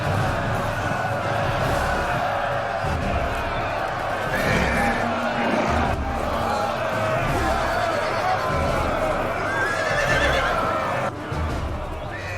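Knights' horses charge into a huge medieval battle against Mongol forces in a video game, with loud neighing and whinnying over a dense, continuous din of hooves and massed battle noise, steady throughout.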